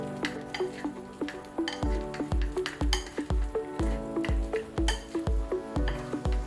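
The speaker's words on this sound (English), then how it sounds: "I'm gonna vigorously whisk this together with my chopsticks" Chopsticks vigorously whisking a small mirin mixture in a bowl, with rapid repeated clacking taps against the bowl, close and fairly quiet, in a quick steady rhythm.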